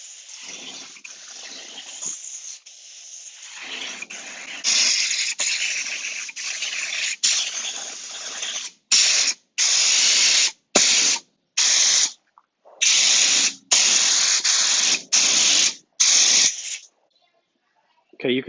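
A spray gun applies EkoFill filler to an aircraft wing in a continuous hissing spray that breaks into a series of short, regular bursts as the gun is triggered on and off.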